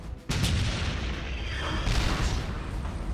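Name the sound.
shell explosion hitting a WWI tank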